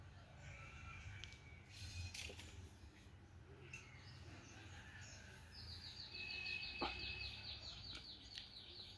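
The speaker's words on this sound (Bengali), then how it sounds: "পাখি কিচিরমিচির গান গাইছে।" Small birds chirp in the Bangladeshi countryside, where mynas and roosters forage in grass. The calls are faint and scattered at first, then a quick run of repeated high chirps follows in the latter half, set against quiet rural background noise.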